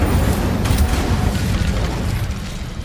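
Incendio fire spell cast in Hogwarts Legacy, a dense, loud whooshing roar that sustains steadily for about three seconds with low rumbling body.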